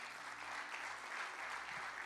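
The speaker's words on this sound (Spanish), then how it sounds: "Dele ese aplauso" Church congregation applauding during a sermon, a continuous, fairly faint and distant wash of clapping with no distinct individual claps.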